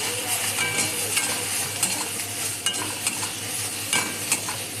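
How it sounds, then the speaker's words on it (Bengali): Chopped tomatoes with salt, chili powder and turmeric being stirred and fried in a pan, a steady sizzle under repeated scraping strokes of a utensil, close and continuous with no talk. "এবার আমি ভালো করে একটু কষিয়ে নেবো"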